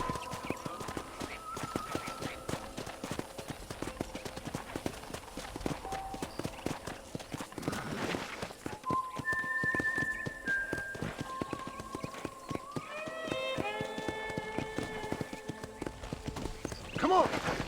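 Horse hooves clip-clop steadily at a trotting gallop in the Red Dead Redemption video game, a continuous rhythmic beat running throughout while someone talks and music plays over it.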